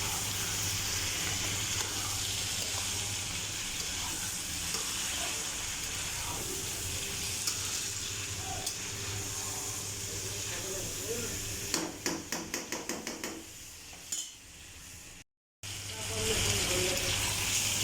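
Chicken meat being sautéed with potatoes in a pan gives a continuous sizzle and frying hiss, followed near the end by a quick run of sharp knocks and a brief cut to silence.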